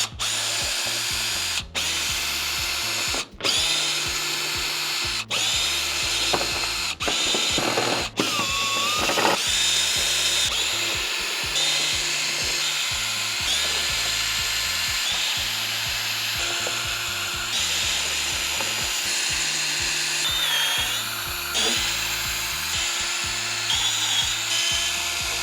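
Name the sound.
removing Porsche Panamera panels with Torx bits and sockets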